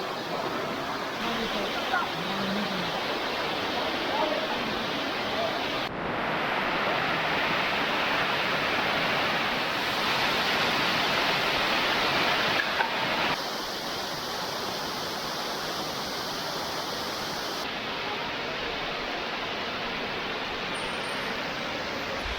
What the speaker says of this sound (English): Three good waterfalls today.